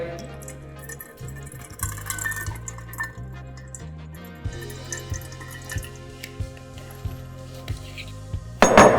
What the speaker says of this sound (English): So in this bowl, we're going to mix some rice vinegar, a little bit of soy,